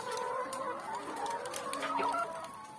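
Laying hens on an Indonesian egg farm cluck and chatter together in a dense, continuous chorus of overlapping calls, fairly close, with no speech.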